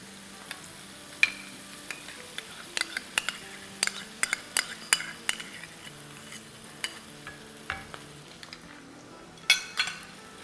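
Masala with yogurt and green chillies fries in a pot, with a soft steady sizzle under repeated sharp clinks and scrapes of a spoon stirring against the metal, close and alone.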